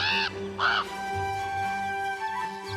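A crow of the North American plains gives two loud, harsh caws close by, followed by a lingering tonal hum and no speech.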